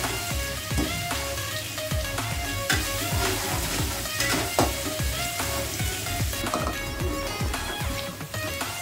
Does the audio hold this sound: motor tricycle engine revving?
no